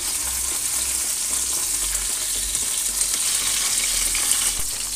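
Hake fillets sear in hot oil in a frying pan, giving off a loud, steady, close sizzle that continues unbroken throughout.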